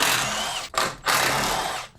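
A power tool whirs loudly up close while removing 13 mm bolts on a BMW E90, in two steady high-pitched bursts split by a brief pause, with no speech.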